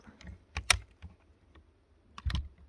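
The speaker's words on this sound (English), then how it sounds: "Universal keyboard keycap puller." A two-in-one universal keycap puller pries keycaps off a mechanical keyboard, giving a few sharp plastic clicks and snaps in close succession, loud and close with quiet gaps between.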